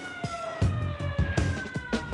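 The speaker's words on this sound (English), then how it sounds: "A siren warns everyone to take cover." A warning siren sounds before blasting in a tunnel excavation, a steady wailing tone with several dull thumps and knocks mixed in.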